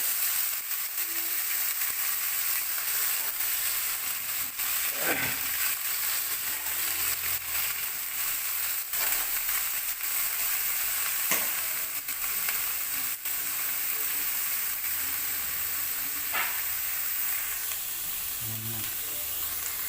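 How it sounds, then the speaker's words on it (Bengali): Chopped carrots, beans and peas frying in a pan, a steady close hiss and sizzle running throughout with a few scattered clinks and scrapes, no talking. "এবার কেটে রাখা গাজর, বিনস আর কড়াইশুঁটি ভালো করে একটু ভেজে নেব।"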